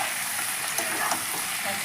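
Chicken pieces stirred and fried in a pan for a Bangladeshi chicken tehari, a steady bright sizzle with a few soft scraping stirs, close and alone.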